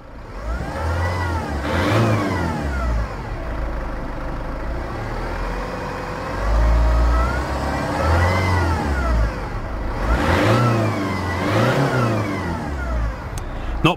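A 2007 Ford Fusion 1.4 TDCi Zetec diesel engine runs after start-up, rising and falling through several revs and settling back between them, heard close and clear with no talk.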